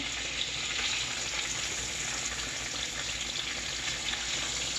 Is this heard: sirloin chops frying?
yes